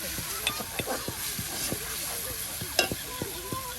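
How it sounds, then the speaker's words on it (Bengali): Spice paste sautéing in a pan over an outdoor cooking fire at a riverside boat community in Bangladesh, with a soft steady sizzle and scattered stirring scrapes, heard under wind noise. "এই যে দেখুন ভাবি কিন্তু সুন্দর করে মশলা কষিয়ে নিচ্ছে"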